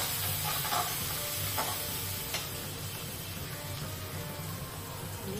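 Asafoetida and a little turmeric sizzle in hot oil as the tempering for a spiced potato filling for vada pav. A steady, close frying hiss runs throughout with faint stirring ticks and no talking.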